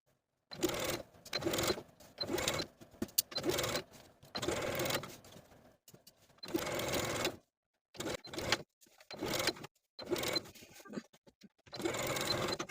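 A sewing machine stitches in the ditch of the main seam around a blouse neckline facing, running in repeated bursts of steady whirring with short pauses between and no voices.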